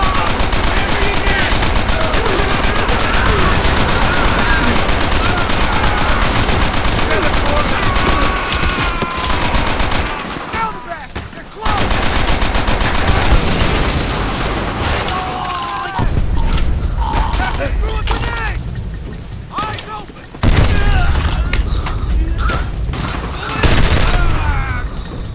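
Sustained machine gun fire in Call of Duty: World at War, dense rapid bursts rattling almost continuously, with brief pauses and mechanical clanks between volleys amid battlefield clamor and shouted voices.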